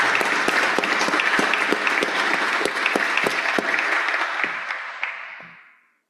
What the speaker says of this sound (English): So just a big round of applause for you, for everybody.